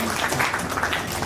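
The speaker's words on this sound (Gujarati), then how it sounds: "આપણે સૌ તાળીઓથી વધાવીશું." Audience applause at a Gujarati poetry book launch, dense steady clapping from a seated crowd, brief and fairly close.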